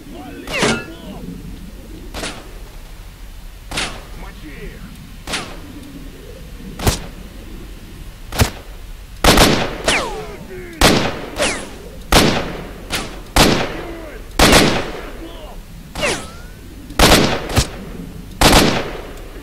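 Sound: rifle gunfire in video game S.T.A.L.K.E.R.: Shadow of Chernobyl

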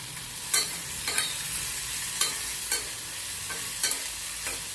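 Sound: peanut powder added and stirred in a frying pan

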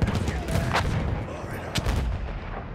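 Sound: machine gun fire in a video game

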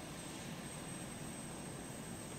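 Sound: airplane engine in flight, video game Arma 2

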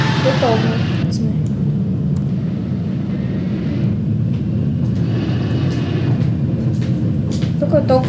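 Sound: Boeing 777-300ER airliner engines in Project Flight video game

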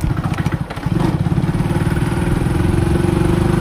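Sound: motorcycle being ridden

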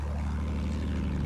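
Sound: airplane flying below in the video game Battlefield 1

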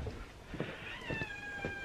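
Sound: cat meowing in a horse barn

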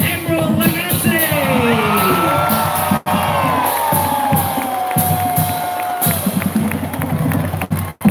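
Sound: ceremony crowd applause and cheering for Chef Emeril Lagasse

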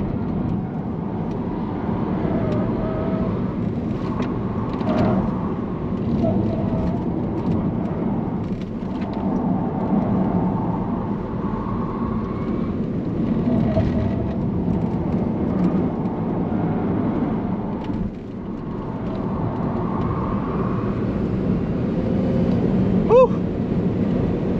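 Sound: Tesla Model S Plaid accelerating on the Nürburgring

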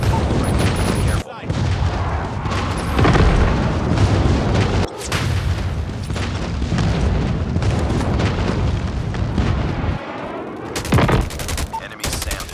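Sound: napalm strike explosions in Call of Duty: Mobile, video game

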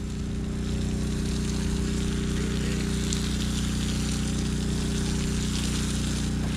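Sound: homemade DIY hydroseeder spraying water from hose

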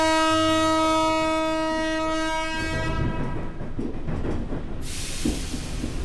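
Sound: train in a video game

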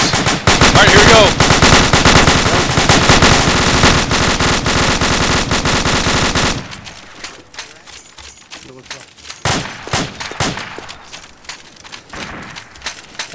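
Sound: gunfire in video game Arma 2

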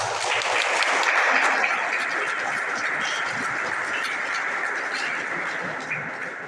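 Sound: applause

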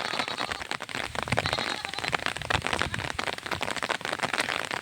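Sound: rain

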